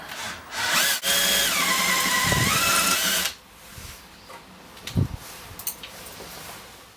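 A power drill whines loudly for a few seconds, its pitch dipping as it bites into metal rivet heads, then stops, followed by faint clicks and handling noises.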